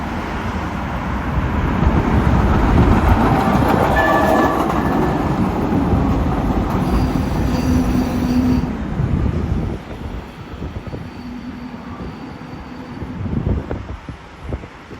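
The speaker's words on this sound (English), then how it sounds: "What you just saw there was one of the older P2000 series trains" An older Los Angeles Metro P2000 series light-rail train rumbles loudly through Redondo Beach Station, a sustained roar of wheels and motors with a faint whine that eases off as it passes.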